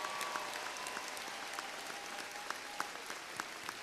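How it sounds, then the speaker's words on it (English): A graduation audience at a 2013 technical community college commencement keeps up steady applause, a dense patter of clapping heard from a distance at low level, with a few sharper claps standing out. "One more round of applause for all the graduates, huh?"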